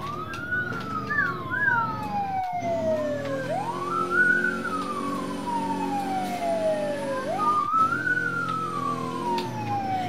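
A police car siren in the video game Roblox Prison Life, wailing up and down in long repeated sweeps over a low engine hum, steady and fairly loud.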